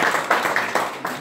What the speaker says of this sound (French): Tina qu'on applaudit